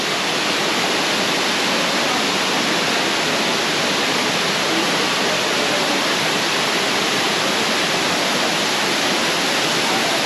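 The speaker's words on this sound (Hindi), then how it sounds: "और ये है वाटरफॉल" A Himalayan waterfall in Jibhi, Himachal Pradesh, roars in a loud, steady, close wash of white noise that never lets up.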